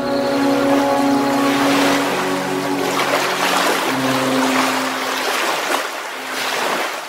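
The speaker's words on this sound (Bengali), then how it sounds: "নৌকা চলতে শুরু করে।" A boat moves on water in a cartoon, with a low humming drone and the rushing wash of waves, steady and moderately loud.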